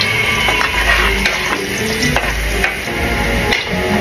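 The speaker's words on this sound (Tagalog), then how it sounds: "Then hintayin lang natin na medyo mamula ng konti yung bawang." Garlic frying in oil in a pan for chicken kaldereta, a steady close sizzle with occasional stirring scrapes and light clinks against the pan.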